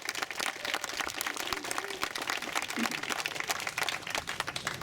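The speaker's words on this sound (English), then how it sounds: "let's give the volunteers a round of applause, too." A crowd at an outdoor 5k race ceremony applauds the volunteers, a sustained wash of many hands clapping at a moderate distance, steady and unbroken.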